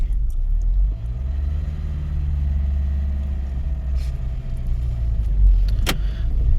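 Car engine labouring up a steep high-altitude mountain road in first gear near Umling La, a steady low droning rumble throughout with one sharp brief click near the end.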